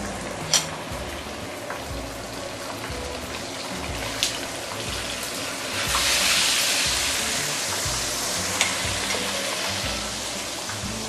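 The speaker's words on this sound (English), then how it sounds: "at least about 15 minutes maybe, slowly deep frying." Steady crackling sizzle of chicken thighs slowly deep frying in hot oil for Malaysian ayam berempah, continuous and close, swelling louder midway, with a few sharp clicks and no voices.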